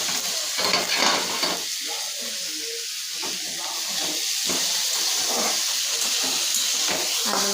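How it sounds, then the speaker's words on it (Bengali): Potatoes and bitter gourd fry in a pan in a rural hill kitchen, giving a steady loud sizzle and hiss with occasional stirring scrapes throughout, no voices. "আলু উচ্ছে ভাজা"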